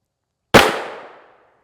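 A single sharp pistol shot from a Ruger LC fired at body armor outdoors, a loud close crack with a short decaying tail, alone with no talking.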